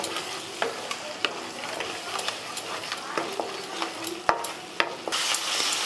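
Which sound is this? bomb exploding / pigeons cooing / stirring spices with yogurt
stirring spices with yogurt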